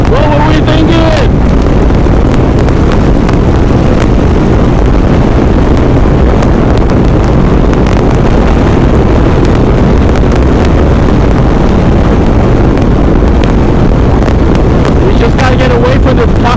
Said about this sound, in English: Just gotta get away from this pocket of wind